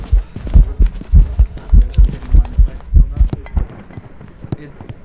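Rhythmic in-game heartbeat from the Phasmophobia ghost-hunting game, a steady series of deep low thuds pulsing loudly for several seconds before fading out, with speech-like sound mixed in.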